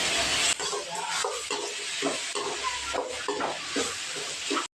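Tomatoes frying with onions in a pan for a peanut-tomato chutney, a steady close sizzle broken by scraping stir strokes, with no talking.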